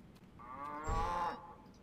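A single drawn-out cow moo in the fantasy role-playing game Neverwinter Nights: Shadows of Undrentide, rising to a loud peak mid-call and tapering off, heard alone over faint background ambience.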